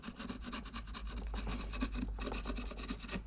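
A chisel pares and scrapes wood on the edge of a bullnose plane for a No. 130 setup, a soft continuous rasping rub with short pauses, close and quiet.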